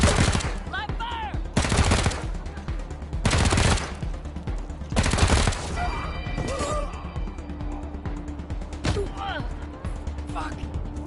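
Machine gun fire in the Wasteland 3 video game, several loud heavy bursts spaced a couple of seconds apart, with people talking in between and scattered impacts.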